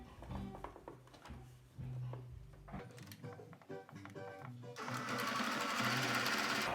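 A sewing machine stitches around a fabric face-mask lining, running in rapid mechanical bursts with brief stops, then a steadier hissing whir near the end, all quiet and close.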